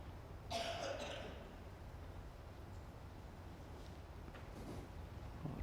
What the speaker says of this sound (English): A lot of coughing going on out in the auditorium there.